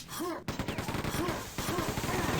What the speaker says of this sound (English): He's committed to this chain gun fight.